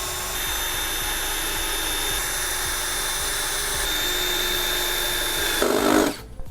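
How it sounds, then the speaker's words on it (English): A power drill bores mounting holes through a motorcycle windscreen with a steady, loud, high whine for about six seconds, then stops abruptly. "And now that the holes are all drilled, you can clean up any holes."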